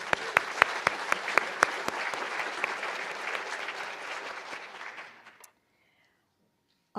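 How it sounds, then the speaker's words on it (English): Audience applause at an awards ceremony, loud and close with sharp individual claps standing out, fading over several seconds into silence. "So let's have applause for this paper as well"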